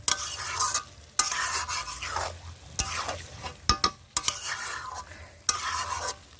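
Chicken pieces frying and being stirred in a pan for a Bengali chicken kosha, with bursts of sizzling and scraping strokes broken by short pauses and a few sharp clinks, up close with no talking.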